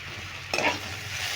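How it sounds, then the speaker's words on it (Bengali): Papaya pieces frying in a pan get stirred, giving a short, close scrape over a steady, low sizzle. "দু মিনিট আমি এইভাবে নেড়ে নেড়ে ভেজে নিলাম আর দেখো পেঁপেটা প্রায় সেদ্ধ হয়ে গেছে"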